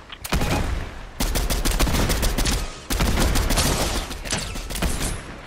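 Rapid pistol gunfire from a Fortnite match, loud and dense bursts of repeated shots in quick rhythm with brief pauses between volleys, no talk over it.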